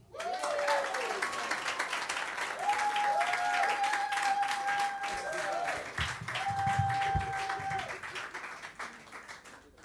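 Audience applauding for a keyboard player at a music masterclass, sustained clapping for about ten seconds with brief sustained tones and low thumps from the stage underneath.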